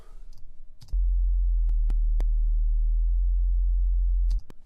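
A deep, steady synthesized sine sub-bass tone that swells in and holds for several seconds, with a few sharp clicks scattered over it.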